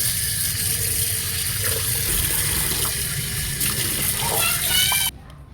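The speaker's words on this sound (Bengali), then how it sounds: "এবার ধুয়ে নেব পরিষ্কার করে ধুয়ে নেব" Cleaned pomfret fish being washed under running tap water, a steady close splashing stream with occasional clinks, stopping abruptly near the end.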